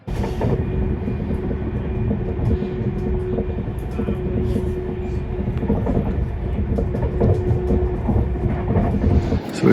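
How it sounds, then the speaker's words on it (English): Steady rumble and rattle of a passenger train riding through Wythenshawe toward Manchester Airport, continuous loud rolling wheels and carriage noise with a faint tonal hum throughout, no talking. "So we've just got off the train at the Manchester Airport train station"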